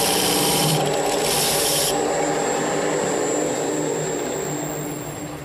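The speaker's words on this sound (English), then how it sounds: "I'm going to start with a skew chisel and make a cut there" A skew chisel cuts into a spinning wooden workpiece on a lathe for a corner chair, giving a steady, loud rubbing, rasping shave with a high whine that eases off toward the end.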